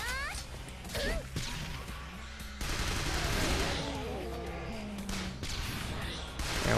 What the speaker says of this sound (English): Let's toss a grenade just in that general direction.